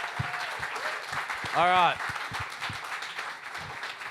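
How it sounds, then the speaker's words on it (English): Audience applause for conference speakers at the close of a session, a steady patter of clapping from a crowd, heard under a voice, with a brief tonal feedback-like whine midway. "can we get a round of applause for my fellow speakers on this session"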